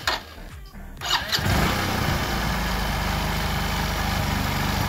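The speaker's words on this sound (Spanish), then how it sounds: "ahí tengo la moto súper acelerada" A motorcycle engine with a freshly cleaned carburetor cranks and catches, then settles into a loud, steady high-revving run that fills the rest of the clip.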